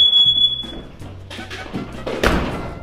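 A smoke detector gives a short high-pitched electronic beep at the very start, followed by several dull thumps and knocks nearby.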